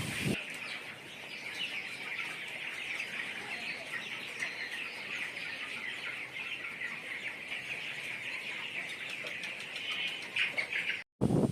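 Broiler chickens on a poultry farm keep up a steady chorus of soft cheeping and clucking that fills the space at moderate distance, with no talking over it.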